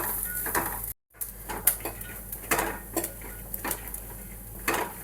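Grated coconut stirred and roasted in a pan with cumin, a spoon scraping and clinking against the metal in irregular bursts over a soft, steady sizzle.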